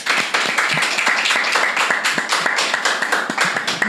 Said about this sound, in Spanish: Quiero que lo reciban con fuerte aplauso.